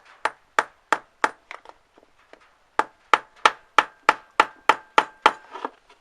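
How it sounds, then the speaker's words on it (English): Repeated sharp knocks of a rubber mallet striking wood, a short burst, a pause, then a rapid steady series of about a dozen blows. "it's basically a mallet that I'm using, so it's a rubber mallet"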